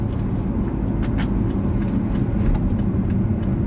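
A 2013 BMW 335i with a six-speed manual gearbox gives a steady low exhaust burble and rumble, loud and close, with no one talking over it.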